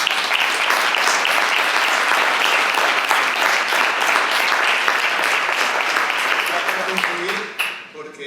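Sustained applause from a seminar audience for students at the start of a course, steady and dense for about seven seconds before fading abruptly, with a few voices emerging at the end.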